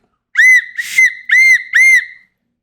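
Four sharp, shrill whistle blasts come in quick succession, close and loud, with a brief breathy burst between the first and second, and no talking around them.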